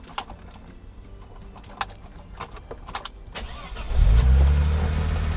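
A few scattered clicks and small rattles, then a Mercedes-Benz R107 280SL engine, just repaired at the fuel distributor, cranks briefly and catches, settling into a steady low running hum.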